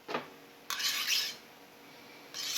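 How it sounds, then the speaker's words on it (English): The back of a knife scrapes minced garlic across a cutting board in two longer rasping strokes with a short tap at the start, close and fairly quiet, with no talking. "When I'm using the back of the knife to scrape it off."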